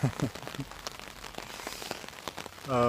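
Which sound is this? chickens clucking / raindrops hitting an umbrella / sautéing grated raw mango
raindrops hitting an umbrella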